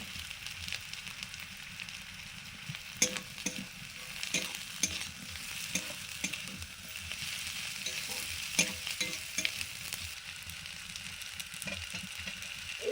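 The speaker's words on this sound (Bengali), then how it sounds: "এবারে দিয়ে দিচ্ছি ক্যাপসিকাম" Capsicum stir-fried in a pan with fried onions and chopped ginger gives a soft, steady sizzle, broken by repeated scraping and stirring strokes of a spatula. There is no talking.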